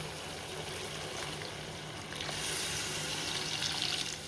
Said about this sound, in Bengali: এখন এখানে আমি পানি দিয়ে দেবো